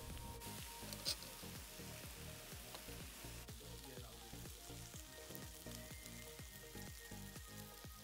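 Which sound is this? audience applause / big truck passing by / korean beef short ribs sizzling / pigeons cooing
korean beef short ribs sizzling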